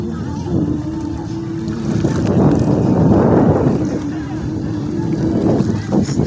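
Gusty wind at a beach in Laiya, Batangas buffets the microphone with a low rumbling roar that swells in the middle, while voices talk faintly underneath.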